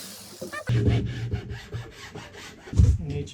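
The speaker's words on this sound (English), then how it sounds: "I'm just gonna cut these to shape now." Wood pieces being hand-sawn to shape for a custom car center console cabinet, a series of close, rhythmic rasping strokes with short pauses between them and a heavier stroke near the end.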